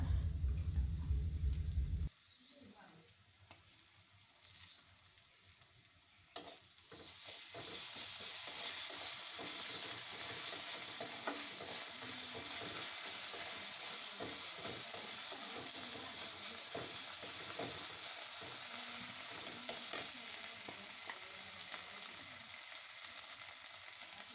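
Ginger, garlic and cumin paste sizzles in a hot pan, a steady hiss with light stirring that takes over after a brief quieter start and keeps going at an even level to the end.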